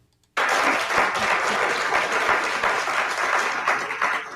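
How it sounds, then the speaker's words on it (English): Audience at a city council meeting breaks into steady, full applause after the stadium deal vote, starting abruptly after a brief silence and continuing evenly throughout. "Members of the audience applauded after the vote was made"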